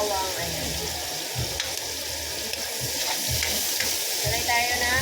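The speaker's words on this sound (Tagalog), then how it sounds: "Salay tayo ng bawang. Maraming bawang." Garlic and onion sauté in hot oil in a pan, a steady close sizzle with occasional stirring scrapes, while a person speaks over it now and then.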